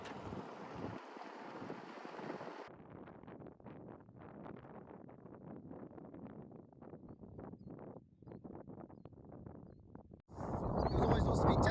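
Strong wind buffets a kayak on a salt lake, roaring and rumbling across the microphone in steady gusts with choppy water sounds, rising to a harsher blast near the end.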